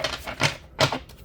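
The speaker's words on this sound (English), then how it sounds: "We're going to do one more shuffle here." Tarot cards being shuffled, with quick papery riffles in three short close bursts separated by brief pauses.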